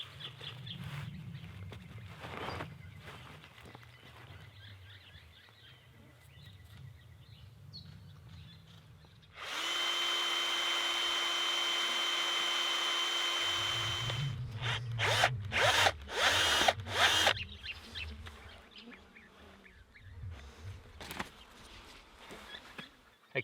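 A power drill bores out a stuck bolt, giving one steady, even whine of about five seconds, framed by quieter scraping, rubbing and clicking handling sounds before and after.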